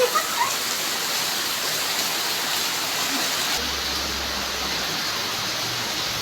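Heavy rain pours down in a dense, unbroken hiss with a cool wind blowing, steady and loud throughout, and a faint low hum joins partway through.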